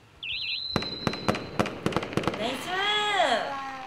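Fireworks sound effect in a livestream: a whistling launch followed by a string of sharp crackling bursts, then a fizzing, sweeping tail, with a voice speaking briefly over it.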